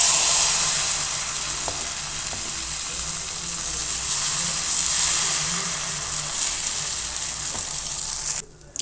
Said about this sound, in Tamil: சூடு ஏறிட்டுருக்கு. நம்ம தோசை போட்டுடலாம்.